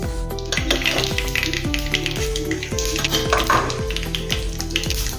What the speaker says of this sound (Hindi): अभी यही तेल में हम, तेल गर्म ही है, इसमें राई डालेंगे।